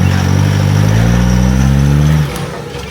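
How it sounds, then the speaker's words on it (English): An Isuzu D-Max engine revs hard and loud as the truck climbs a big rock step on a rough off-road track, a sustained strained drone that cuts off abruptly near the end. "Jono's big D-Max driving straight up this big step"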